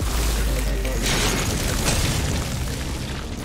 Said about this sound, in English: Oh, the explosion killed me.